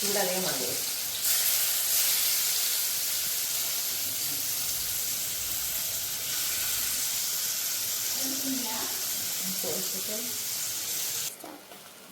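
Steady loud sizzling of prawns frying in a hot pan, a continuous hiss with occasional stirring clatter.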